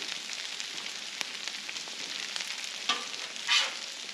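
Hashbrowns sizzle steadily on a Blackstone griddle, a close, even frying hiss throughout, with a couple of short scraping bumps near the end as they are flipped.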